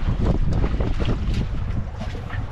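Wind blows across a fishing boat at sea, a loud, gusty rumble buffeting the microphone with continuous low roaring and fluttering.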